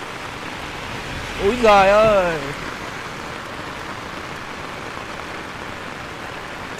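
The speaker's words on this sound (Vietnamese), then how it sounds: "Trời mưa rất là to" Heavy rain pours steadily near the Silver Waterfall in Sapa during the stormy season, a dense, even hiss that runs the whole time while a voice briefly exclaims over it.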